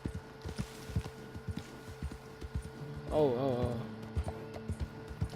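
Horse hooves clop steadily in Red Dead Redemption 2 Online, and a wavering whinny rises briefly in the middle, all under a man's close, casual talk.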